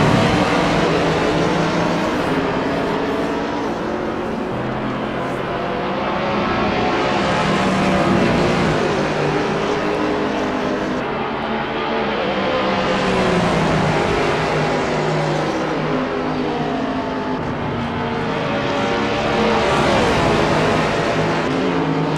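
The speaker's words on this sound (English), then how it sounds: "Al having some really good driving luck with that Porsche 911 here tonight at the Zandvoort circuit" A Porsche 911 race car engine drones continuously at the Zandvoort circuit in a racing video game. The pitch rises and falls in long waves as the car accelerates, shifts and brakes through corners, loud and steady with no talk.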